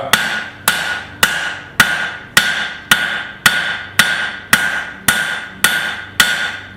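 The cross peen of a hammer strikes hot metal while a garden cultivator is forged, about a dozen sharp, ringing blows landing in an even, steady rhythm, loud and close with no talking.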